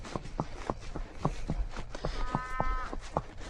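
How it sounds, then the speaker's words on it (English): A cow moos once or twice at a distance in a farm setting, heard over the steady clip of hooves walking on a road and faint outdoor background noise. "Ooh, we can hear a cow."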